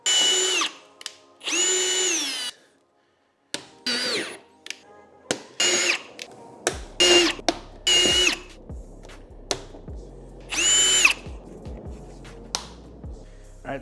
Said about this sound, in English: all we have to do is drill out the holes, put these in,